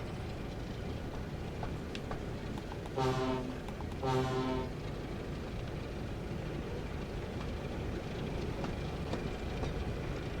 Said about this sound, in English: the track joint sounds actually do sound quite nice on this